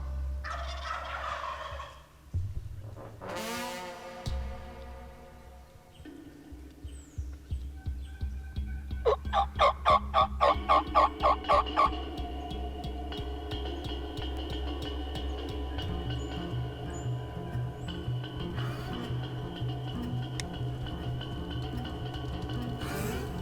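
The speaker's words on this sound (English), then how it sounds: "One come by first and he gobbled." Wild turkey toms gobble in the open, a series of loud rattling gobbles with one burst of rapid repeated notes, heard alone against a steady low background hum.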